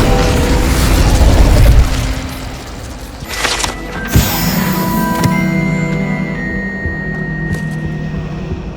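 The Incendio fire spell is cast in Hogwarts Legacy, with a loud rushing burst that flares and crackles, then settles into a whooshing burn and scattered pops.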